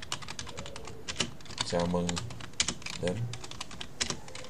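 Computer keyboard keys tapped in quick, uneven bursts of clicks close to the mic while someone speaks over them, entering Vietnamese text.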